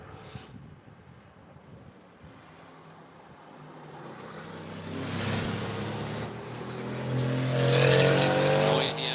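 A BMW M3 race car on a circuit approaches from a distance and passes, its engine note rising and growing louder toward the end over steady wind buffeting on the microphone.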